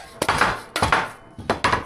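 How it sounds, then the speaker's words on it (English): A hammer strikes a Jeep drive shaft spline in three sharp metallic blows spaced about half a second apart, each ringing briefly, loud and close in a workshop. "I need a hammer is what I need."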